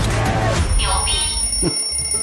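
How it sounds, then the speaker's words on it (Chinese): An alarm clock's alert tone from a Chinese comedy film rings as high, steady tones under a voice talking, lasting a couple of seconds. "闹钟的牛逼提醒音"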